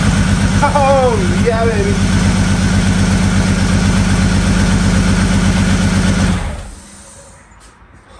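A Mk2 Jetta with a swapped VR6 engine runs on its first start, with the power steering not yet sorted. It holds a loud, steady idle while a man cheers over it, then cuts off abruptly near the end.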